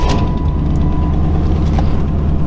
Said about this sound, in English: Haven't driven this in a few weeks, so let's fire it up and let it run for a minute